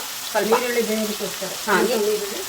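Onion and tomato fry in a pan with a steady, moderate sizzle that runs throughout, while a voice talks over it.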